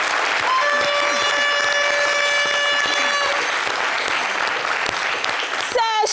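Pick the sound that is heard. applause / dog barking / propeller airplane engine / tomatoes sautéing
applause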